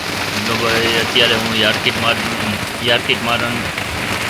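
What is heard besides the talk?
heavy rain on market yard roofs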